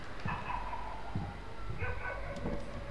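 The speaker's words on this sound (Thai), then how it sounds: "เสียงหมาโคตรเหมือนจริง" A dog barks a few times in the Home Sweet Home horror video game, with yips and whimpering mixed in, heard at moderate distance over a low ambient background.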